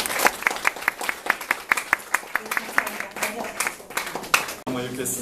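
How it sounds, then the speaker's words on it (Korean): Audience applause at a church thanksgiving ceremony, a steady run of distinct claps that stops abruptly near the end, where a voice begins speaking. "우리 인사드릴 때 또 박수로 맞아주시고"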